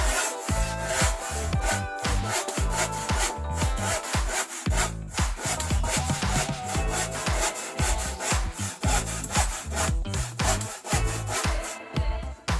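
A hand saw rasps through wood in a steady back-and-forth rhythm, each stroke a distinct scraping pulse, close and continuous for several seconds.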